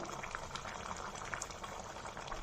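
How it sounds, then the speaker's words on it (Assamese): Mutton curry boiling in a pot, a continuous soft bubbling and gurgling of thick liquid close by, fairly faint and alone. "অলপ সময় মাংস সিজি গৈছে আৰু অলপ অকণমান উতলিলে বাছ মোৰ তৰকাৰী হৈ যাব"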